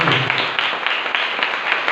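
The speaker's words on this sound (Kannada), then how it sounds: "ದೇವರಿಗೆ ಚಪ್ಪಾಳೆ ತಟ್ಟೋಣ." A church congregation applauding together at a dedication service, a steady dense wash of many hands clapping, fairly loud and uninterrupted for the whole moment.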